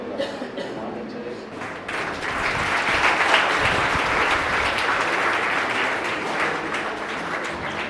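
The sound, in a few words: audience applause at anniversary ceremony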